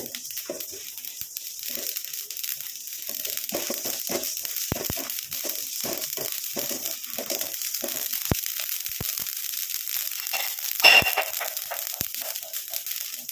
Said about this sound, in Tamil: கடுகையும் எடுத்துக்கோங்க எடுத்து நல்லா நம்ம ஃப்ரை பண்ணிக்கலாம் பாருங்கள் நல்லா பொரிய ஆரம்பிச்சிருச்சு